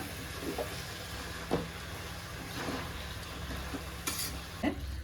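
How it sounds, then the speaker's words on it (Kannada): Chicken fry with fenugreek and chilli powder being stirred in a pan, a low sizzle underneath occasional spoon scrapes and clanks against the metal, close and intermittent. "ಇವಾಗ ಇದನ್ನೆಲ್ಲ ಒಂದ್ಸತಿ ಚೆನ್ನಾಗಿ ಮಿಕ್ಸ್ ಮಾಡಿಬಿಟ್ಟು ಮತ್ತೆ ಲಿಡ್ನ ಕ್ಲೋಸ್ ಮಾಡಿ ಬೇಯೋದಕ್ಕೆ ಬಿಡೋಣ"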